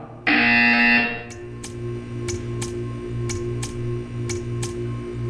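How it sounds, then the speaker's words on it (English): A loud electronic buzzer in the video game Portal 2 sounds once for under a second, followed by a steady hum and a series of evenly spaced sharp ticks. "You will hear a buzzer."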